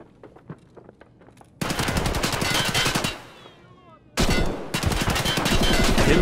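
Rapid automatic gunfire from the shooter game Escape From Tarkov, loud and close, in two long sustained bursts separated by a short lull, with a few sparse single shots before the first burst.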